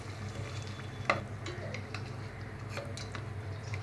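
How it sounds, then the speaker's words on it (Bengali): Marinated beef liver frying in hot oil in a pan while being stirred, with a steady low sizzle, a sharp utensil scrape or clank near the start and a few lighter clinks later. "এ পর্যায়ে আমরা ম্যারিনেট করা লিভারটা দিয়ে দেব।"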